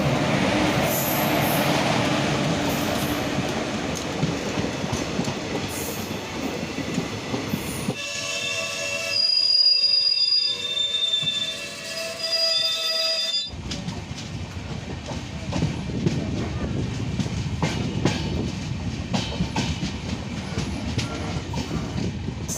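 The Antyodaya Express runs from Tambaram to Nagercoil with a loud, continuous rumble of wheels on rail, broken midway by a quieter stretch of high squealing tones before the heavy roar returns.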